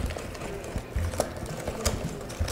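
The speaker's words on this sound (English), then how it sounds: "I just want to give it a good whisk." A whisk beats vegan brownie batter made with egg replacer and pureed spinach and carrots in a bowl, giving a faint, quick, rhythmic clicking and tapping against a soft background hum.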